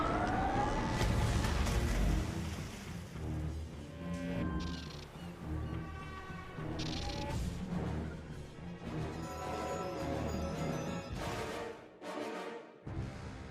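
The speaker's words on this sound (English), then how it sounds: "Oh yes, the sirens." Sirens in the Myth video game Out at Sea, a loud, dense musical and sound-effect mix with rising tonal wails layered over busy game audio, cutting to near silence briefly near the end.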